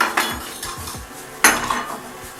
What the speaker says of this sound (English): We're going to beat together the eggs